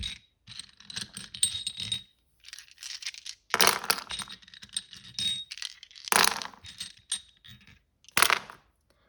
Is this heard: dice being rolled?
yes